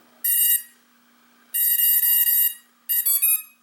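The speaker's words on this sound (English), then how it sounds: "we get all the beeps from all the ESCs" Loud, high electronic beeps from a drone's electronic speed controllers at startup in three groups: a single tone, then a longer run of chirps, then a quick closing sequence.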